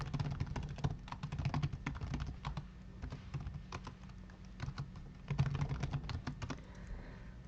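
Someone types on a computer keyboard, with bursts of quick, close key clicks separated by short pauses, in a quiet room.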